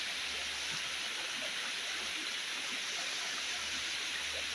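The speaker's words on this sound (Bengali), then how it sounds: "ওই যে দেখুন ওখান থেকে আসলে ঝর্ণাটা পড়া শুরু হয়েছে।" A waterfall in Bandarban, a steady broadband rush of falling water that stays constant and fairly distant, with no voices over it.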